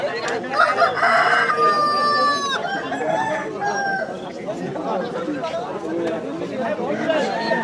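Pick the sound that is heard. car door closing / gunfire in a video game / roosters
roosters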